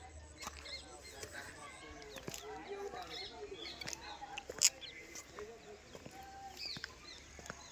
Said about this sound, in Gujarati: પક્ષીઓના અવાજ, મીઠો મધુર કલરવ, મોરના ટહુકા